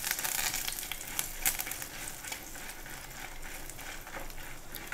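Curry leaves sizzle and crackle in hot oil over a low flame for Mangalore-style pomfret fish curry, a dense, steady frying hiss with scattered louder pops, close up and with no voices.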